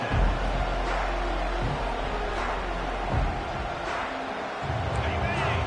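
A stadium crowd in a Madden football video game roars as a broad, steady wash of cheering and hubbub, with a commentator's voice talking over the top.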